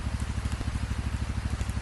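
Steady rain pattering down as a horror-story sound effect, a dense even hiss with a regular pulsing rhythm underneath, no voices.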